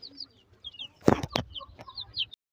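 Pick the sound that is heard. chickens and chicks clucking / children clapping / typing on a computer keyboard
chickens and chicks clucking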